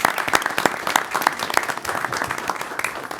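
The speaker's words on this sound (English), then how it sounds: "So a round of applause for Paula Walrick." Audience applause at a village board meeting honoring a retiring staff member, with distinct individual claps standing out over a dense, lively patter of many hands.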